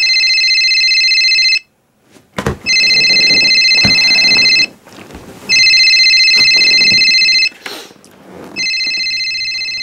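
A telephone rings loudly and close by in an indoor scene, its electronic trilling bell sounding in three long bursts separated by brief gaps, with a sharp knock and some rustling between rings.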